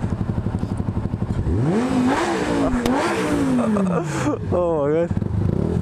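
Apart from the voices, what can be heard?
Yamaha R125 motorcycle engine revving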